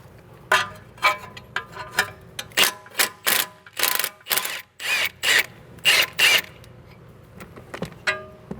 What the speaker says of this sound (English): The impact just makes easy work of these big crusty bolts.